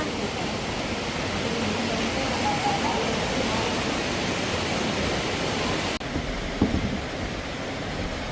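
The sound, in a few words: water flowing down from above, waterfall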